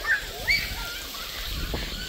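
A child splashes and plays in pool water at a resort, with soft irregular splashes and sloshing at moderate distance, light ambient noise and faint voices in the background.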